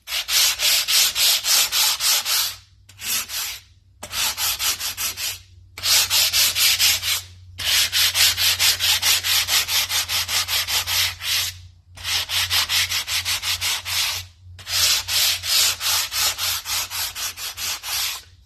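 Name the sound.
sanding engine gasket surface with 80 grit long board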